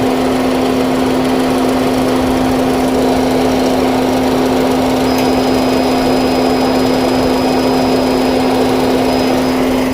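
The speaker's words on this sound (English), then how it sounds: "The fan's on high." Cabin blower fan of a 2007 Ford Fusion running on high with the A/C not working, a loud, steady whooshing roar with a constant hum, unbroken for the whole stretch and no talk.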